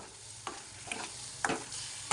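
Paneer gravy roasting in oil on a tawa sizzles steadily up close, with four spaced scraping stirs of a spatula and no voice.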